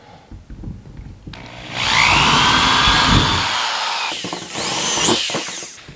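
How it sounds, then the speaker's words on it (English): Power drill with a 3/16 inch bit boring rivet holes into a plastic kayak hull, two loud whining bursts, the first lasting several seconds and the second shorter and brighter, with handling clatter before them. "I'm gonna start drilling these holes for my rivets. Same thing, I got a 3/16 inch drill bit,"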